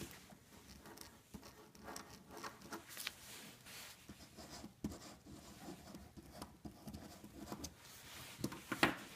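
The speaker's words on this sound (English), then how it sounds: "Let me draw some stars rotating around here for you" A pen drawing stars, with soft irregular scratchy strokes and light rubbing in quick bursts, faint and close, with no talking over it.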